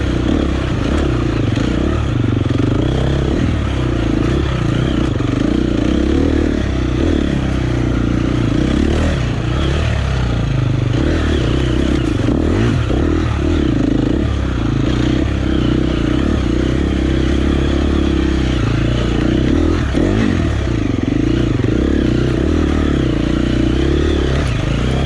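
A four-stroke motorcycle ridden off-road, its engine droning loud and steady for the whole stretch with clattering and scraping from the rough ground, and no voices.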